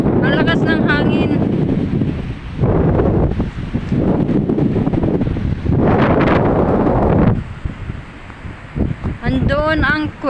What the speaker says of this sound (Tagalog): Grabe, mahangin. Ang lakas ng hangin.